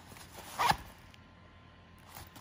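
A zipper on a navy Fjällräven High Coast Pocket bag gives one short, close zip pull that stands out against a quiet background.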